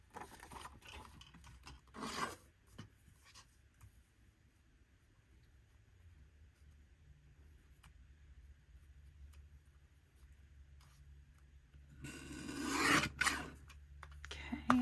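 Paper for craft belly bands has its border trimmed with a paper trimmer, giving soft rasping slides and rubbing, with a louder scraping burst near the end over a low background hum.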